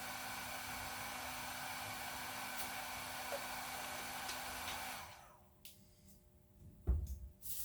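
A heat gun blows steadily while heat-shrinking window tint film on the back window of a new Dodge Charger, a loud continuous whoosh that cuts off about two-thirds through, leaving a quiet room with a few soft knocks.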